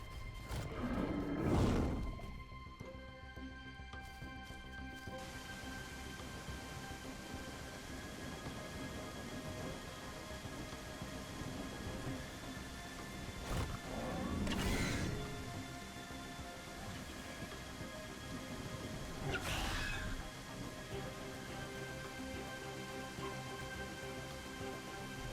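Rain in the video game ARK, a steady hiss of rainfall broken by three deep rumbling thunderclaps spaced several seconds apart. No one speaks.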